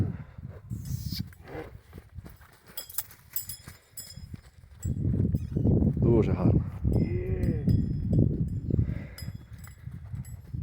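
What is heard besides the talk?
black stallion horse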